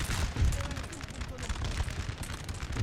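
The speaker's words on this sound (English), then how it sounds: "Right now we're punishing the enemy with canister." Canister shot from artillery booms out in Napoleon Total War, a dense run of overlapping low blasts and crackling volleys rolling continuously through the battle noise.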